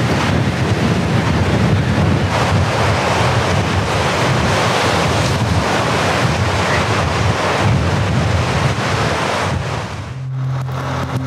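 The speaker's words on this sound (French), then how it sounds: "Après le Mistral, c'est la tramontane qui nous rattrape." A strong tramontane wind roars across the Midi-Pyrénées, a loud, continuous rushing gust with heavy buffeting against the microphone that barely lets up until a brief drop near the end.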